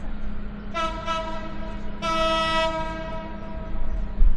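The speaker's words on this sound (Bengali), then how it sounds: "আমাদের ট্রেনটা ঠিক দশটা পঁয়তাল্লিশ মিনিট সময় নিয়ে হচ্ছে স্টেশন থেকে ছেড়ে দিল" A train horn sounds in two loud, harmonic blasts over the low rumble of a train pulling away from Kamalapur railway station, Dhaka. No talking.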